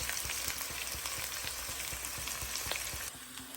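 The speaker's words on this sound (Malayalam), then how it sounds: "ഇതൊന്ന് നന്നായി വഴന്നൊരു ചെറിയ ബ്രൗൺ കളർ ആവുന്നത് വരെ നമുക്ക് വഴറ്റിയെടുക്കാം." Onions with curry leaves sautéing in a pan for Kerala tuna-head fish curry, a steady close sizzle with regular stirring scrapes, the hiss dropping off slightly near the end; no talking.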